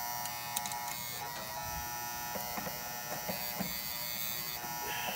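An original brown contactor on a ten-year-old HVAC condenser panel gives off a steady, close electrical buzz that holds for the whole stretch, with faint clicks and handling sounds layered on top.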